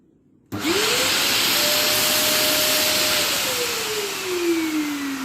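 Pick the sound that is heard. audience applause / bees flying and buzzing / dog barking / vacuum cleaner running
vacuum cleaner running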